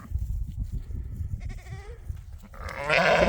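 Sheep crossing to a new area on a farm bleat several times at moderate distance, a short call midway and a louder one at the close, over low outdoor rumble.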